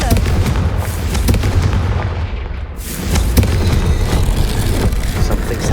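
Explosions from the Confringo blasting spell in the video game Hogwarts Legacy: loud, continuous booming bursts that dip briefly midway, then surge again, with no talk over them.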